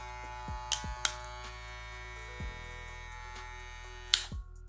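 A Trisan brushless hair clipper and trimmer runs with a steady, close electric motor whine and buzz, broken by a few sharp clicks and taps before the motor cuts off at the end.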